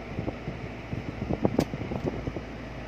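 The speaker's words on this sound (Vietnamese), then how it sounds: "thử cái máy lạnh cho anh chị coi luôn, máy lạnh nó bật là lạnh" The air conditioner runs inside a 2009 Toyota Fortuner, a faint, steady blowing hiss with soft irregular ticks and bumps over it.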